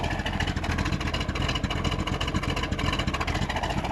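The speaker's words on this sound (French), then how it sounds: "On sent une légère cam que l'on entend à l'échappement et aussi que l'on peut noter aux vibrations du moteur." A 1970 Corvette Stingray engine idles with a slightly lumpy cam, its exhaust giving a steady, close, rumbling burble with a faint uneven pulse throughout.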